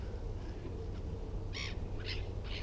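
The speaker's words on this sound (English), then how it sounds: "Oh, just feeding crows now." Crows being fed peanuts in White Table Woods give a few harsh calls, three short bursts spaced through the clip over a quiet outdoor background.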